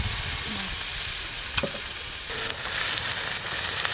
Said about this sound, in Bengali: আলুগুলো একটু ভাজা ভাজা হয়ে গেল